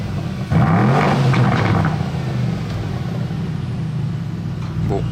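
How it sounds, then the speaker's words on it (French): An Aston Martin DBX engine fires up and revs hard with a deep rising growl, then settles into a loud rumbling idle, close by and continuous for several seconds. "il fait des vrais retours d'échappement très violents"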